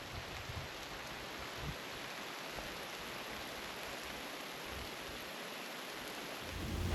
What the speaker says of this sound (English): As I make my way back down to camp, the sky opens up with an unexpected rain.